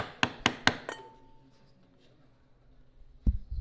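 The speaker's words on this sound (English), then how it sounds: "Then I'll set the chisel right in the gauge line." A chisel set in a gauge line on wood is struck. Four quick, sharp raps come close together, followed after a pause by a single heavier knock. The strikes are close and there is no talking.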